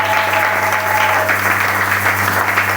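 A church congregation applauds together in praise during a service, a dense, sustained clapping that stays loud and even throughout, with a steady low hum beneath it.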